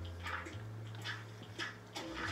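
Water is poured in a survival video game, heard as repeated short splashing, gurgling bursts roughly every half second over a low background hum, with no talking.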